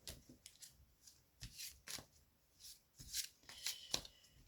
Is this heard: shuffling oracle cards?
yes